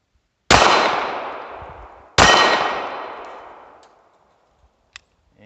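Two loud, close gunshots from an SCCY CPX3 .380 ACP pistol, each a sharp crack with a long ringing decay, about one and a half seconds apart, followed by a faint click.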